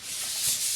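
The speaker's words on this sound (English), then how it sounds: "that's why we always recommend burnishing with our bone folder" A bone folder rubs in one smooth, close stroke over a paper fold line to burnish it, a soft continuous hiss that ends with a light tap.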